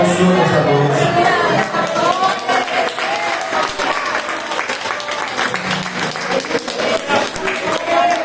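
A church congregation applauds loudly and continuously during a worship service, with shouts and voices mixed into the clapping.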